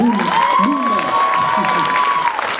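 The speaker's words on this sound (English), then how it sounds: "let's give them another round of applause." An audience at a live show applauds and cheers loudly, a dense wash of clapping with a sustained high whoop rising above it.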